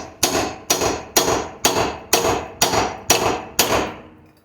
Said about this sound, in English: Now we can hit it with the hammer from here.